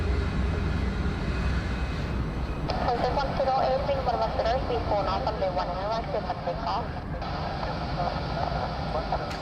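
Airplane flying past at Bangkok airport, a broad, steady jet roar heard from a distance throughout, with someone talking over it.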